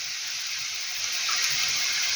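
Water poured into a pot of softened sauerkraut, a steady close hissing gush that runs evenly throughout and swells slightly toward the end.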